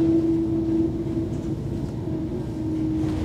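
A train rolling along the line toward Kettering, a steady low rumble with a sustained hum, heard from on board at constant loudness and no voices.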